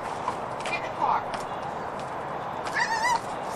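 A horse let loose at a rural home whinnies twice, a high wavering neigh near the start and a longer one toward the end, over steady outdoor background noise with a few soft thuds and people talking nearby.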